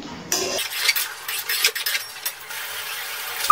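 Spoon stirring fried spice masala into chicken in a pan, a steady close scraping and clinking against the metal with a faint sizzle underneath, ending in a sharp clink.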